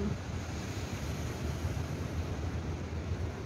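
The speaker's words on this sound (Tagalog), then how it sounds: "napakalino ng dagat" Sea waves at Pasipiko Beach in San Isidro roll in as a steady, loud wash of surf mixed with wind rumbling across the microphone, continuous and close, with no voices.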